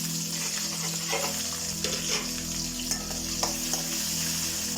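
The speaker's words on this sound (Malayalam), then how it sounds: "അതിലേക്ക് നമുക്ക് ചുമന്ന ഉള്ളി ഇട്ട് കൊടുക്കാം" Red shallots and salt go into hot frying oil with urad dal and lentils for a banana flower and horse gram thoran, giving a steady close sizzle with a few stirring scrapes throughout, no talking.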